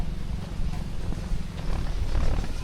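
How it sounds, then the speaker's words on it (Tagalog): Strong wind on a beach buffets the microphone with a continuous low rumble that rises and falls, loud and close, with no other clear sounds. "sobrang hangin, no? Naririnig nyo ba yan?"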